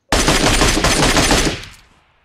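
A loud, close burst of rapid automatic gunfire from a PUBG-style battle royale shooter, running continuously for about a second and a half before fading out.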